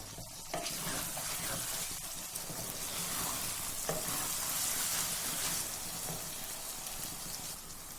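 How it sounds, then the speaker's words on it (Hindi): Aloo keema of minced meat and potatoes fries on a high flame, giving an even, rain-like sizzle at low volume. Stirring and scraping in the pan continue throughout, with no talking. "1 से 2 मिनट तक हाई फ्लेम के ऊपर इसको भून लेते हैं"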